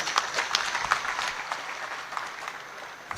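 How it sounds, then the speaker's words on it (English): Audience at a university graduation ceremony in Kyambogo gives the minister a big round of applause: dense, sustained clapping from a crowd, steady throughout and fairly distant. "Another big hand clap to the minister."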